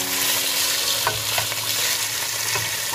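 Pork kidney with ginger stir-fries in a hot pan, sizzling loudly and continuously, punctuated by a few scrapes and clinks of the spatula stirring; no talk.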